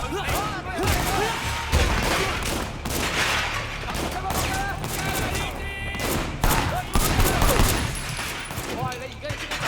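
Rapid bursts of gunfire crack repeatedly in Sleeping Dogs video game combat, with a vase shattering partway through and faint voices underneath.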